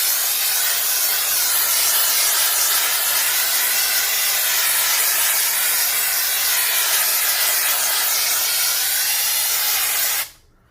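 An aerosol can of drywall texture sprays in one long continuous hiss for about ten seconds, close and loud, steady in level, then cuts off abruptly at the end.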